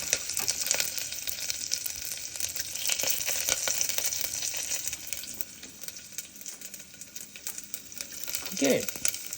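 Ginger fries in a pan with a bay leaf while khichadi is being made, a steady close sizzle with stirring scrapes and a short clatter near the end.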